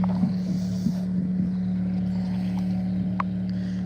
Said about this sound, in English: That boat sounds good